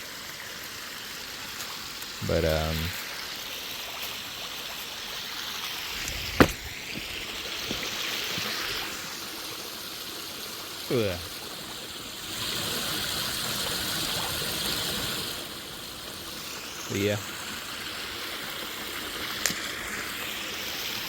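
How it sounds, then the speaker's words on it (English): Creek water flowing at an off-grid property, a continuous close rushing and trickling wash that persists throughout, with a few brief spoken words and occasional short bumps. "this is all the water flowing. That's where it ends up, in this part of the creek."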